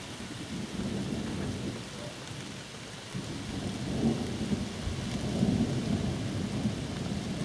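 Heavy rain pours continuously during a thunderstorm over the Wirral in June 2020, with low rumbling thunder swelling louder in the second half.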